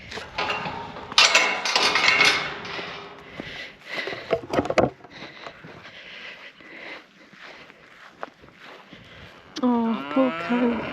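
A cow moos near the River Eden on a run from Gretna Green to Carlisle, one long lowing call at the end after a stretch of footsteps, rustling and outdoor clatter.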